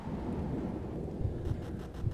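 Howling wind with a low rumbling roar, with the first drops of rain pattering as a stormy sound effect, steady and fairly loud throughout.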